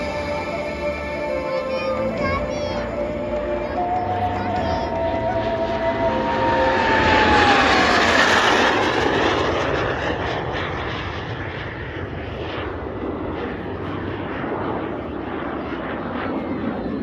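An L-39 Skyfox jet aircraft engine roars loudly and continuously, with a high whine that sweeps in pitch and swells to a peak midway before easing off, all without speech.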